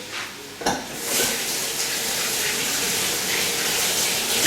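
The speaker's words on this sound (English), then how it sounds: "I'm going to rinse my hands off right quick" Tap water runs steadily as hands are rinsed at a home kitchen sink during broccoli fritter preparation, a close, continuous broadband rush that starts after a brief knock.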